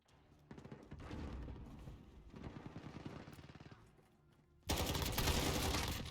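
Rapid automatic gunfire from a modern Galil rifle in Modern Warfare, sustained bursts of shots with a louder, denser stretch near the end, no talk over it.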